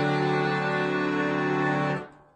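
An accordion sustains a thick, loud chord of layered reeds for about two seconds during a music lesson, then cuts off abruptly with a short fading tail.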